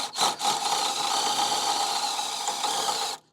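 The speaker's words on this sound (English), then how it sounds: "When you're drilling metal, you don't have to drill too fast." A power drill whirs steadily into a Jeep Wrangler JK metal inner front fender for about three seconds, a close, high grinding buzz that stops abruptly.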